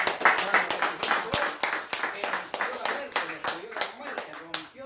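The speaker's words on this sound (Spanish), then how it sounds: "Aplausos a Cristo que resucitó" A church congregation claps in steady rhythmic applause, many hands beating together fairly loud and close while a voice speaks over the clapping.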